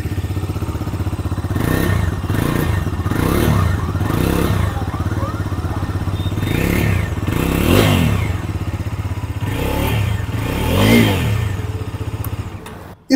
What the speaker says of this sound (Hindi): अभी रेव करके देखते हैं।